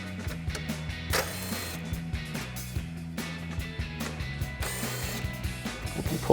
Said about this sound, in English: we're going to remove the two 7mm screws holding our bracketry in place with our 7mm socket